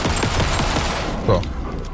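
Bursts of gunfire in Alan Wake 2, a dense rattle of shots running for about a second, then fading, with one heavier report and murmured voices underneath.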